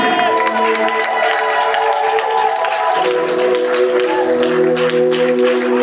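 A church congregation claps and cheers in praise, with a steady patter of clapping under loud, sustained music and some voices.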